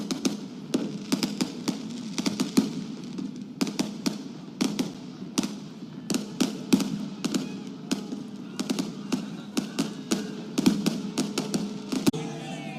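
Firecrackers burst in a rapid, irregular string of sharp, loud cracks and pops close by, continuing steadily throughout with only brief gaps between volleys.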